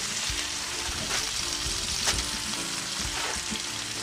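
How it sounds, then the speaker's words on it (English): Garlic and onion sauté in a pan with meat-searing drippings, a steady crackling sizzle broken by periodic scraping stirs. "I'm sauteing the garlic and the onion from the gravy that I used from searing the meat"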